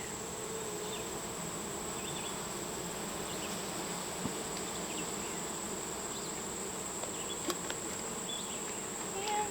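Honeybees hum in a low, steady drone around an open hive being inspected after syrup and a little smoke, with a few faint clicks and taps from handling, and no talking.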